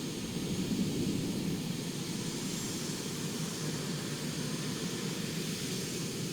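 A jet aircraft engine runs at full throttle on a carrier catapult in Arma 3, a steady, loud, unbroken roar of broadband noise with no voices.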